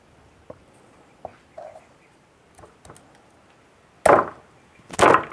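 Sharp wooden chopping and cracking blows as a wooden log beehive of Trigona laeviceps stingless bees is split open, a few light knocks followed by two loud splitting impacts close by, no talking.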